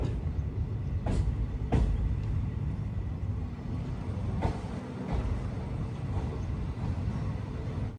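Chikkamagaluru to Bengaluru Express train rolling along steadily, a continuous low rumble of wheels and carriages with occasional sharper clanks from the rails, heard from on board without talk.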